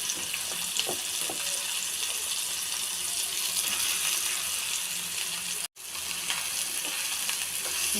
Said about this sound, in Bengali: তো সয়াবিন এবার ভেজে নিব।